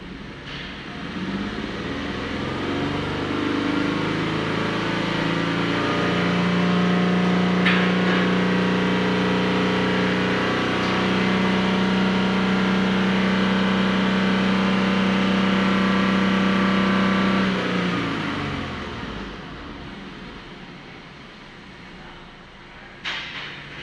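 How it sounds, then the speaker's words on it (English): A 2022 Genesis GV70 engine with a misfiring cylinder is revved, its drone climbing to a sustained higher-pitched hum for several seconds before settling back to idle, heard close with no talking. "I'm gonna raise the RPM."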